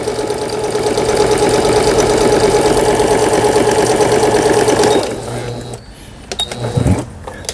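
A Juki HZL-K65 household sewing machine, being checked after repair, stitches with a fast, steady mechanical chatter for about five seconds, then stops, followed by light handling noises.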